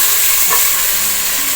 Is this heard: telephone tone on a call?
no